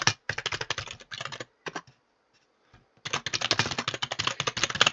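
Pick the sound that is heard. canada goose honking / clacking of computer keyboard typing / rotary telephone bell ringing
clacking of computer keyboard typing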